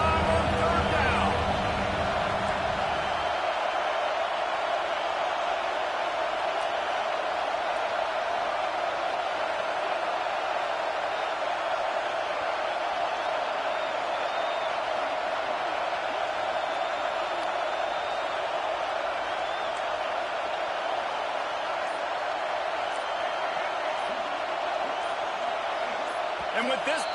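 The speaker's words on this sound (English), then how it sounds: "The Buckeye crowd alive on third down." A loud, sustained roar from the home crowd at an Ohio State Buckeyes football stadium on third down against Penn State fills the whole stretch as an unbroken wall of cheering.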